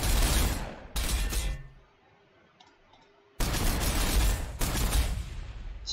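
Rapid bursts of gunfire from a Warhammer 40,000: Sanctus Reach battle with Orks, loud dense volleys that break off for a couple of seconds into quieter low rumble before the heavy firing resumes.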